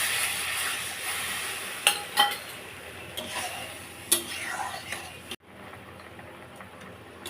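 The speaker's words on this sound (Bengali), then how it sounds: "দেখো ঝোল ফুটছে" Shrimp curry gravy with yogurt and spices bubbles and simmers in a pan after water is added, a steady close hiss of boiling with scattered soft pops and a few sharper clicks, fading slightly near the end.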